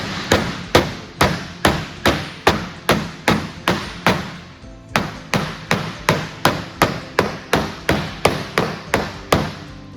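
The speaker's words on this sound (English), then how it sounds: "I am going to utilize the Worth Simplex soft hammer to apply" Rapid, evenly spaced blows of a Würth soft hammer tapping laminate, about two per second, close and solid, with a brief pause midway.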